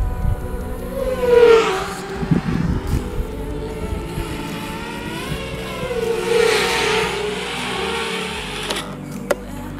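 An FPV drone flies in to land, its motors giving a whining, rising and falling buzz of changing pitch at moderate distance, with a short thump near the end and no speech.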